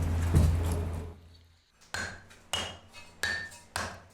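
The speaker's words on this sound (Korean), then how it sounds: "이번엔 망치로 두드려 형태를 만드는 우김질" Hand-forged brass bowl being hammered into shape, first a heavy clanging blow, then four sharp, ringing metallic strikes at an even, steady pace, close and loud with no talking.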